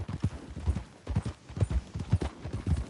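Horse hooves clip-clop at a brisk, regular trot in Red Dead Redemption 2, a close, rhythmic beat of paired hoof strikes with no speech.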